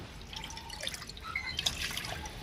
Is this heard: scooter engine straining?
no